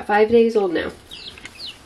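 Several young chicks about five days old, kept with a duckling, cheep in high, quick repeated notes that sound close by, mixed with a person talking briefly.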